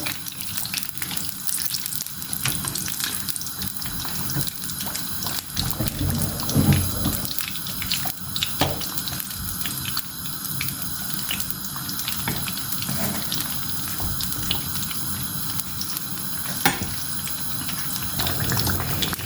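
Eggplant pieces frying with tomato in a pan, producing a continuous loud, rushing sizzle like running water that holds steady throughout with a few brief clatters.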